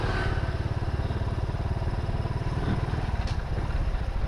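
A motorcycle rides along on a delivery run carrying Durabox cargo. The engine putters with a steady, throbbing, mid-pitched drone and light clatter, loud and continuous throughout.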